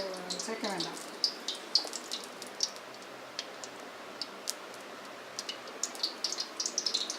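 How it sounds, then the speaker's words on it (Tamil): Cooking oil poured into a cooking pan for cauliflower varuval gives a soft, quiet trickle with scattered small ticks and drips; a brief voice sounds near the start. "எண்ணெய் சட்டியை வச்சு எண்ணெயை ஊற்றிப்போம்"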